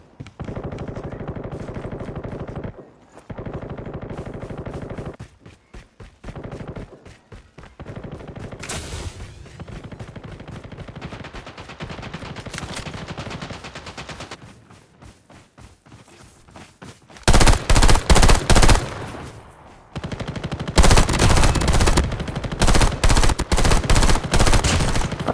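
Gunfire in the mobile shooter Call of Duty Mobile, bursts of automatic fire and shots in clustered runs with pauses, louder sustained volleys near the end.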